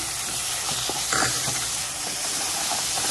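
Brinjal and sesame masala curry paste sizzling in hot oil, a steady broad hiss with faint stirring scrapes, close and continuous with no talk.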